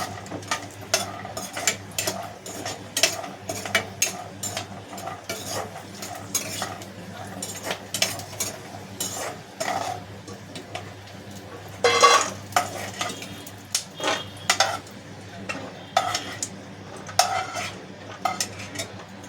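Grated carrots for carrot halwa roast in a pan, stirred steadily with a metal spoon that scrapes and clinks against the pan in an ongoing rhythm under a faint sizzle.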